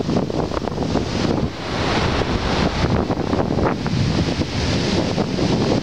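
Steady, loud wind roars against the microphone at a beach in Mui Ne, Vietnam, during kite surfing, with surf washing underneath; the broadband buffeting runs continuously with no voices.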